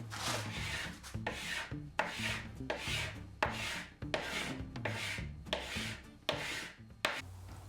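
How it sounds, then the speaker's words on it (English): A scraper rasps paint off a small wooden dresser in steady, repeated strokes, about one per second, close and dry with a gritty scratch. "hours of footage of scraping paint on this little small dresser"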